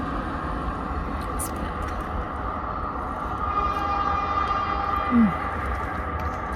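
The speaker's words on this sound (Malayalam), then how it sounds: "നിങ്ങൾ ട്രെയിൻ വേണ്ടേ? റഷ്യയിലെ ഞാൻ കാണിച്ചു തരാം," A train passing in Russia makes a continuous low rumble of rolling wagons that swells slightly midway. A faint tonal horn-like whine is heard, along with a short blip near the end.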